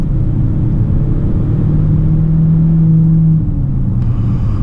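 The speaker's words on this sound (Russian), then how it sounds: "Звучание двигателя сдержано, без каких-то ярких ноток." An Omoda C5 all-wheel-drive car's engine runs with a steady loud low rumble and a faint hum that holds, then eases off toward the end, with no voices over it.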